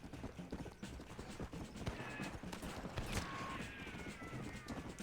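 Horse hooves clip-clop in a steady rhythm amid a busy soundscape in the video game Red Dead Redemption, with mechanical clatter and a few sharp bangs layered over the trotting.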